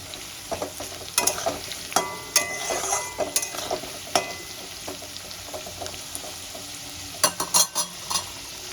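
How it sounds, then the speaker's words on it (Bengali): Potatoes frying in oil in a home kitchen, a soft low sizzle punctuated by sharp spatula scrapes and clinks against the pan at irregular intervals. "আলুগুলো লাল লাল করে ভেজে দিতে হবে"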